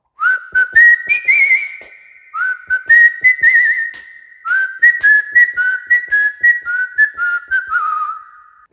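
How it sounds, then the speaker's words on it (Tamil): Someone whistles the melodic whistle passage of a film song up close and loud, in clear sustained phrases with short gaps between them, alone and without accompaniment. "அதில் வந்து விசில் போர்ஷன் நடுவில் வரும்"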